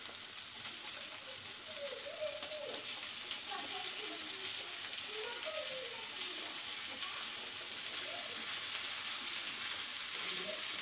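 Okra pieces fry in a ginger-garlic tempering, producing a continuous, even sizzle at moderate volume with no pauses.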